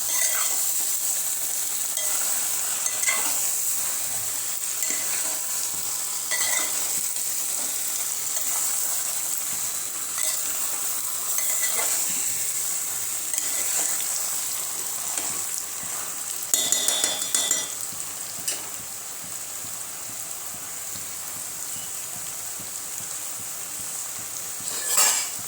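Spices and mixed vegetables sautéing in a pan for a restaurant-style veg Diwani handi give a steady, loud sizzle, with occasional spoon scrapes and clinks as the mixture is stirred, and no talking.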